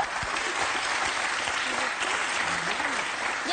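A television studio audience applauds: dense, continuous clapping holds steady throughout, with faint voices rising briefly beneath it.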